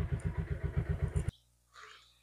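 A second-hand motorcycle engine idles with a steady, rapid thumping pulse for about a second, then cuts off abruptly, leaving a faint mechanical hiss and brief rustle afterward.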